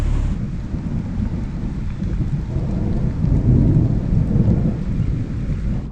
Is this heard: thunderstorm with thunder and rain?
yes